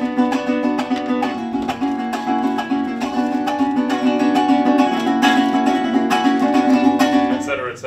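Tuyero joropo music is played on a stringed instrument, a bright, rapid, continuous strummed rhythm with sustained tones running steadily for several seconds, close and alone.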